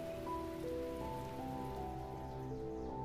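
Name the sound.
rain in video game The Talos Principle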